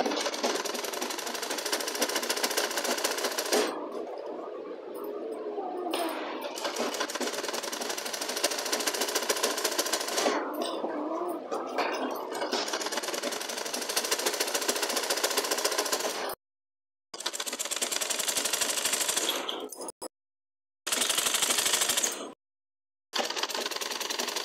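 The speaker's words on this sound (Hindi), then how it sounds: "अब पहले हम इसकी गले पे सिलाई लगाएंगे," Sewing machine stitching along the neckline of a blouse, a steady dense motor whir running in long continuous bursts with brief pauses between seams, close and fairly loud, no talking.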